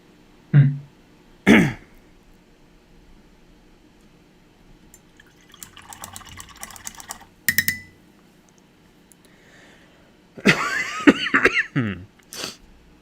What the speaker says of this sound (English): You always want a good, easy cough.